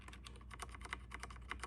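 Rapid, steady keystrokes from an iKBC CD108 V2 mechanical keyboard with Cherry MX Brown tactile switches and PBT keycaps, typed close up, each press a soft, even clack with no click, heard alone.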